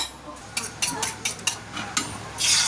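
Egg and crushed spam frying with garlic and onion for fried rice, a soft sizzle broken by several sharp clinks and scrapes of a utensil against the pan, close by, building to a louder hiss at the end.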